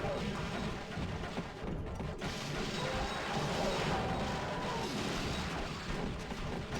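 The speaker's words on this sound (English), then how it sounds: "They have a tinny sound when they die." Metallic crashing and smashing from the Gauntlet video game as enemies die, with a tinny, clanking quality over a dense, continuous mix of game noise and combat sounds.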